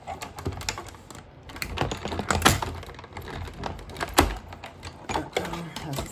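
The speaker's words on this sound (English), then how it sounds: "All right, so let's die cut those." A die cutting machine runs paper pieces through its rollers, giving a steady mechanical grinding and clunking with a few heavier thunks, heard up close and alone.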